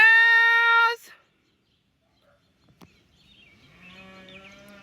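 Cattle on a rotationally grazed pasture lowing: one loud, close, sustained moo, a pause with faint rustles, then a second, more distant moo.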